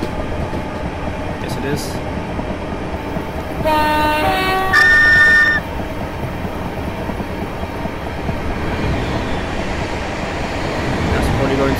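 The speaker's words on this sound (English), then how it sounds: "What train is that? 444, I believe." A Class 444 electric multiple unit passes by in Train Simulator 2019, with a steady rolling rumble throughout and a brief two-tone horn sounding midway, while someone talks over it.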